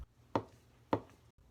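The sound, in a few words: chopping vegetables with a knife in wave-like motion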